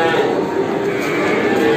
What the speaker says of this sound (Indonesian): Tadi kita juga sudah melihat ketika proses penurunan untuk sapi-sapi milik Bapak Zawawi.